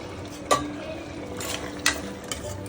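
Garam masala and coriander powder being stirred into mutton curry: scraping spoon strokes against the pot with a couple of sharper clinks over a steady low cooking background.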